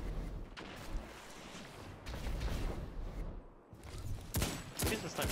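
Grenade blasts chain together in a competitive tournament shooter game, a dense run of booming, crackling explosions over about five seconds with a sharper burst near the end, amid game noise.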